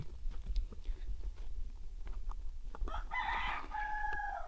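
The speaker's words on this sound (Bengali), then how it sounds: "মুরগি ডাকতেছে দেখছস? মুরগি ডাকে কিন্তু গ্রামে" A rooster crows in a village setting, a clear cock-a-doodle-doo rising near the end over a steady low rumble and scattered small noises, with no talk.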